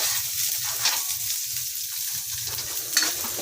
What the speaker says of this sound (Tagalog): Tapos, isunod na yung sibuyas. Ayan. Gisa lang po natin siya ng mabuti.